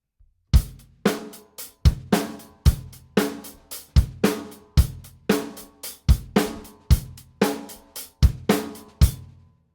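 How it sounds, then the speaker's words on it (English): Drum kit playing the verse groove of a rock song, with a steady, even hi-hat pulse pushing forward over kick and snare hits in a regular rhythm, close and clear with no talking. "On the other hand, he uses the hi-hat to drive the groove."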